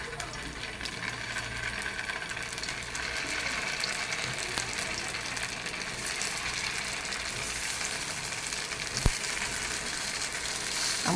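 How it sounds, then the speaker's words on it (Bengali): Chhana (cottage cheese) fritters frying in hot oil give off a steady, close hiss of sizzling with scattered crackles, and the sound stays fairly even for the whole stretch. "সেই খোলাটাও আমি ভেজে নেব"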